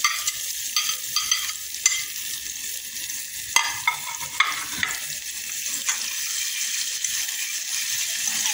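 Onion frying in a pan for a vegan Indian dish, a steady bright sizzle broken by repeated scraping stirs at an irregular pace, close and moderately loud with no talk.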